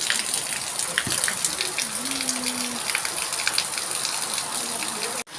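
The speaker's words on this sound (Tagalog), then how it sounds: "Finally, ang lakas ng ulan." Heavy rain falling at night, pouring steadily with a dense hiss over a roof that is leaking, loud and continuous throughout with a brief faint voice-like tone in the middle.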